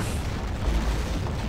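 Missile explosion in the Skibidi Toilet video game, a dense low rumbling boom that sustains loudly for the whole moment with no talk over it.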